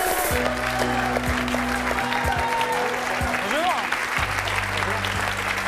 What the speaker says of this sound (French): Florian Gazan, que je vous demande d'applaudir très chaleureusement.